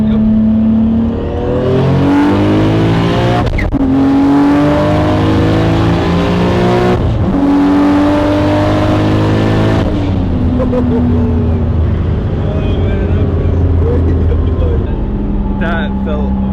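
A 900 HP 1995 Toyota Supra with anti-lag makes a loud street launch: the engine revs hard and climbs through several gear changes, with rising and dropping pitch, close and continuous, while people talk over it.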